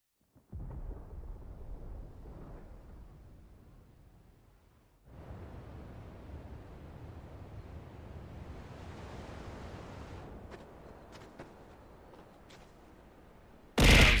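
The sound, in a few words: thunder in the video game Final Fantasy XVI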